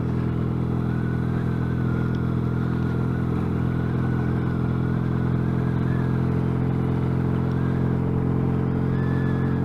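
Yamaha XS650 motorcycle fitted with new peashooter exhausts, ridden at about 30 mph: a steady, loud, continuous engine drone with a low throbbing exhaust note and wind rush, no talking.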